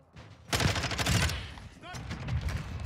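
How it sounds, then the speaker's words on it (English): A mortar support strike in Warzone thunders in as dense, rumbling bursts of blasts, loud and close, with a second wave of impacts following a short lull. "Mortar support incoming."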